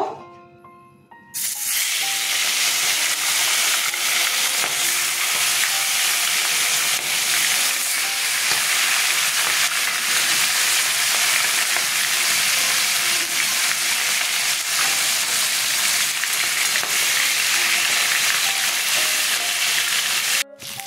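Rohu fish pieces fry in hot mustard oil, a loud, steady crackling sizzle that erupts after a quiet second and holds unbroken for nearly twenty seconds.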